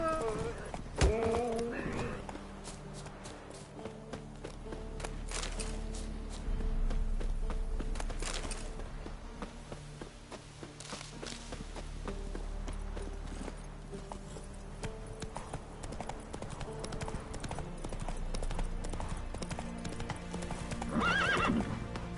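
Roach, the horse in The Witcher 3, trots with steady, rhythmic hoof clip-clops throughout, over game music and ambience, with a whinny and some faint talk mixed in.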